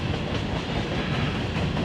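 A long mixed freight train of hoppers, boxcars, flat cars and tank cars rolls past close by in Northeast Alabama, a steady loud rumble with faint clickety-clack from the wheels, no voices.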